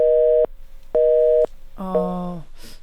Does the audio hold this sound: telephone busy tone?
yes